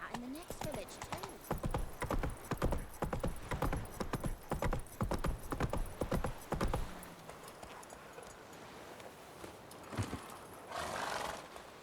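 Hooves of Roach, a horse in The Witcher 3, clip-clop in a brisk, loud rhythm, followed by a neigh. A voice talks over the hoofbeats before the horse slows into quieter ambience.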